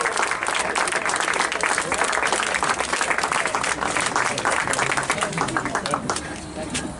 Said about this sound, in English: So we can applaud for our Piršlys.